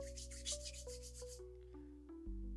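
Hands rubbing liquid chalk lotion together, a close, soft rhythmic scratching friction of several quick strokes over a faint steady background hum.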